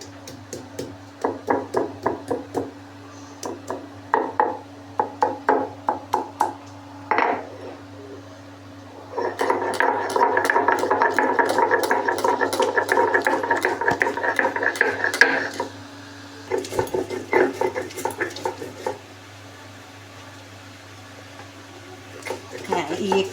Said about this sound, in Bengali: তাহলে এবার আমি আদা রসুনটা থেতো করে ভালো করে বেটে নিই।